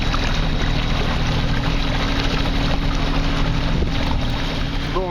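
A small sailboat's auxiliary engine held at about 1000 rpm, pushing the boat along at roughly 3 knots on a coastal cruise near Menton, a steady low drone blended with wind and water noise throughout.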